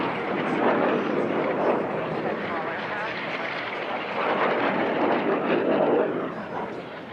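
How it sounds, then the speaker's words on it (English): Race aircraft accelerating toward full speed at the Reno National Championship Air Races, a loud continuous engine roar that swells and fades as they pass. "these aircraft are just beginning to accelerate and get up to full speed"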